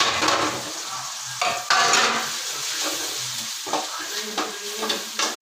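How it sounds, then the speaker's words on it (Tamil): Tomatoes with chilli powder, coriander powder and garam masala sizzle in a pan while a spoon scrapes and stirs, loud and close, with repeated stirring strokes over a constant frying hiss. "அப்புறம் தக்காளி போட்டு நல்லா ஃப்ரை பண்ணுறாங்க."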